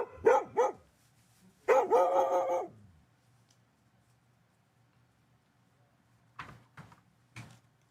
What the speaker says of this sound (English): Let's see if we can get him barking at something else here